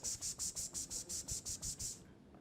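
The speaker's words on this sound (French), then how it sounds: "C'est les cigales." Cicadas chirp in a quick run of about eleven shrill, evenly spaced pulses, then fall silent, leaving faint background hiss.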